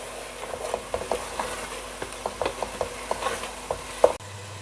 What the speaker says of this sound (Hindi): ये सारे मसाले इसमें जाएंगे और मैं इनको अच्छी तरह मिक्स कर दूंगी।